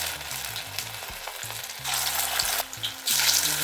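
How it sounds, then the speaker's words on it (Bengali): Cauliflower pakora batter fries in hot oil, a close, loud, continuous sizzle and crackle with occasional stirring clatter and no speech. "এবারে তেল বসিয়ে দিয়েছি, তেল গরম হয়ে গিয়েছে, এগুলো গোল গোল করে দিয়ে দিতে হবে।"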